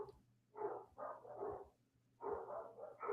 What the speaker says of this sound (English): Oh, the dog sees something inside.